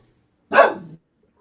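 A dog gives a single loud, close bark indoors, a short sharp burst in otherwise near silence.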